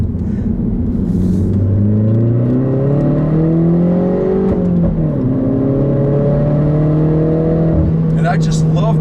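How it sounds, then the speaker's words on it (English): A 2014 Mini Cooper S under way, its engine and exhaust droning loud and close with slowly climbing then dipping harmonic tones as the turbocharger spools, over a constant road rumble. "you can hear this turbocharger spooling. And then the exhaust is also very, very nice"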